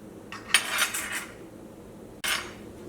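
A metal measuring spoon clinks against a dish as pepper powder is added to a masala mix, with a cluster of bright clinks followed by one more sharp tap, close and clear with no voices.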